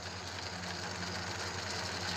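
A 5-horsepower motor drives an Italian paint-making machine, humming steadily with a low tonal drone and a faint regular pulse, alone and continuous throughout.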